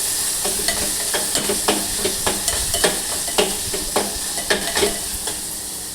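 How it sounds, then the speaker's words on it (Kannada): Tomatoes fry until soft in a pan for a methi rice bath, a loud continuous sizzle broken by regular spoon stirs and scrapes every half second or so, close up with no talking. "ಟೊಮೊಟೊನೂ ಕೂಡ ಅಷ್ಟೇ ಸೇಮು ಸಾಫ್ಟ್ ಆಗೋವರೆಗೂ ಫ್ರೈ ಮಾಡಬೇಕು."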